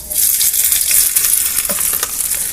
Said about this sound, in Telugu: ఇవి వేసేసుకొని మంచిగా ఫ్రై చేసుకున్నాము